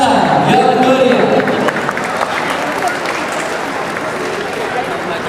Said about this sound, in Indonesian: Boleh saya minta oleh Anda seluruh tamu undangan kita bisa berikan tepuk tangan yang meriah.